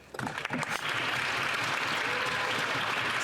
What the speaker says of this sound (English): It's the first time they've been clapping in a while.